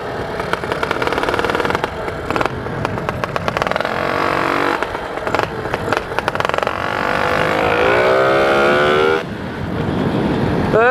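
A Lambretta scooter's two-stroke TS1 engine runs close and loud, revving up and down with a rattly, buzzing exhaust note, rising in pitch toward the end.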